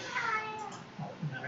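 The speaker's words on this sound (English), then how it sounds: "My cat needs me." A pet cat meowing indoors, a short, close, drawn-out cry followed by a briefer second meow, heard alone.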